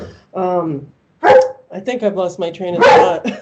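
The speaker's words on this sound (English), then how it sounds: "Sorry, that's my dog." A dog barks loudly and close by, with several sharp barks overlapping a speaker who keeps talking through them.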